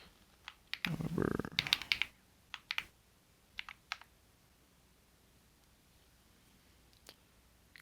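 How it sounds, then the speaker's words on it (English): Scattered keystrokes and clicks on a new computer keyboard during a flight-simulator session, with a quick flurry of typing early on, then sparse isolated taps in a quiet room. "Got a new keyboard and just getting used to"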